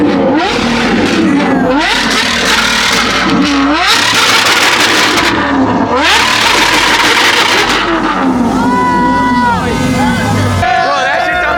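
A Lamborghini SVJ supercar revs loudly at a car meet, with repeated rising and falling engine sweeps and sharp throttle blips over crowd chatter and nearby voices.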